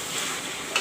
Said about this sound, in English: you can see the chicken frying, how nicely it's frying.